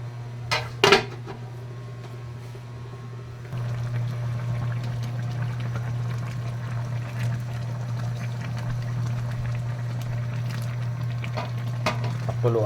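Water pours into a cooking pot for salmon sinigang, a steady close rush running under faint kitchen noise after a couple of brief clinks at the start.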